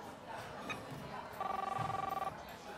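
A telephone rings as a sound effect in a comedy noir radio play, a short pulsing electronic ring of under a second that rises over a murmuring background with voices talking.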